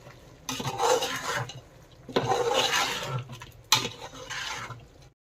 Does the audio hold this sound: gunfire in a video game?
no